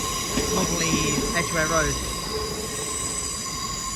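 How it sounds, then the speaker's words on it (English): A London Underground Circle Line tube train at Paddington rumbles past with metallic wheel squeal and rail noise, a steady near roar under a persistent high whine, while someone speaks briefly over it. "Now that tube train is a Circle Line train off to Hammersmith."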